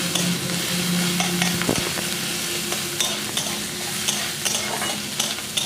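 Okra, chopped onion and green chili fry in mustard oil for a vegetarian dish, a loud sustained sizzle under repeated scraping stirs and spoon knocks, no talking.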